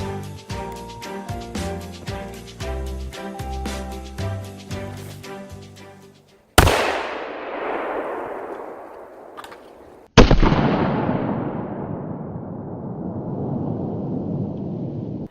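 A firework taped to a can of hairspray goes off after a stretch of background music. Two loud booming blasts follow, each decaying slowly into a long rumbling roar.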